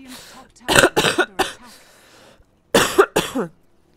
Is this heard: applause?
no